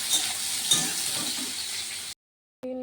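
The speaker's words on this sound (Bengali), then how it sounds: "এবার ভাজতে দেবো, সয়াবিন করে ভালো করে লাল লাল করে ভাজবো।" Soybean chunks frying in a pan, a steady close sizzle with stirring scrapes, then a brief cut to silence before the frying resumes.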